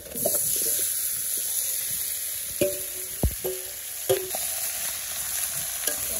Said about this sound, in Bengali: আমি পেঁয়াজটা হালকা ভেজে নিচ্ছি, মাংসগুলো দিয়ে দিই